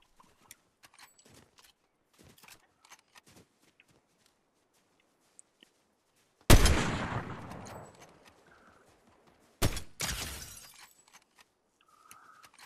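Gunfire in the Fortnite battle royale game: two sharp, loud blasts about three seconds apart, each with a decaying echo, set against scattered faint clicks and footsteps in an otherwise quiet scene.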